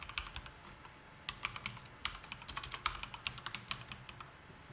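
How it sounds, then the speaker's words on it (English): A username is typed on a computer keyboard in quick irregular bursts of clicky keystrokes, close and fairly quiet, with short pauses between runs. "We type in our username."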